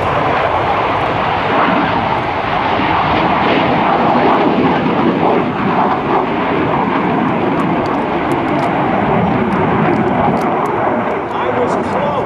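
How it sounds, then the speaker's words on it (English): Lockheed Martin F-16 Fighting Falcon jet at an air show open house, a loud continuous broadband engine roar that stays steady throughout with crowd noise mixed in. "Ryan Ryder Corrigan and the Lockheed Martin F-16 Fighting Falcon."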